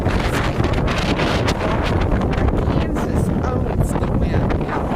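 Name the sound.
strong wind in Kansas blowing on microphone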